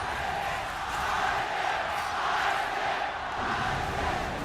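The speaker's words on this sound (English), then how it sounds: "Crowd tells us which team just won a team fight right there" A large arena crowd at the 2017 League of Legends World Championship semifinal, RNG vs SKT, roars and cheers in a loud, sustained wash of noise that swells and holds throughout.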